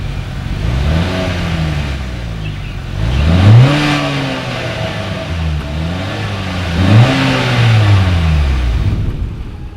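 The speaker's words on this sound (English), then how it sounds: "As always, here is that exhaust clip." A 2020 Acura RDX with dual chrome-tipped exhaust outlets revs repeatedly, three rising and falling surges of engine note, loud and close, with no talk.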